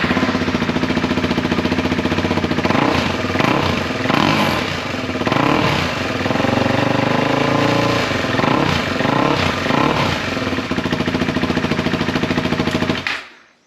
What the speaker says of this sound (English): Sounds more like a dirt bike.